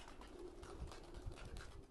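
Domestic pigeons in a keeper's flock in Kokand coo nearby, a soft, low, repeated murmur with no voices.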